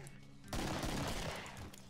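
Sudden loud burst of rapid gunfire in the zombie shooter Killing Floor, erupting halfway through after a quieter stretch and rattling on densely before easing off, with no speech over it.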